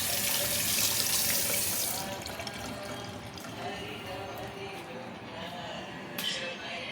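Tap water runs into a sink while potatoes are washed, a strong gushing stream at first that softens into a lighter flow with small splashes, with a voice faintly audible.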